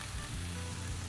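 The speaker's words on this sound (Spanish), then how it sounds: "Vamos a freír." Food sizzling steadily in hot oil in a home kitchen while Huevos Motuleños and alambre are cooked, a dense crackling hiss that runs close and continuous with no voices over it.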